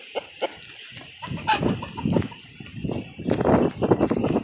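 A chicken clucks in short, close bursts, with a few low grunting clucks rising and falling against a faint steady hiss.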